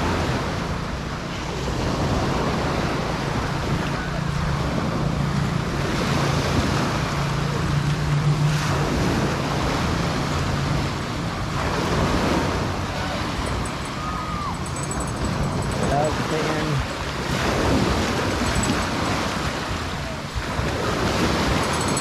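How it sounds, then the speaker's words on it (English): Surf rolls onto the shore at Naga Beach in Samar, Philippines, a continuous broad wash of waves mixed with gusty wind rumble on the microphone, with no talking. "Naga Beach. Pretty nice."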